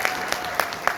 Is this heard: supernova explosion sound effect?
no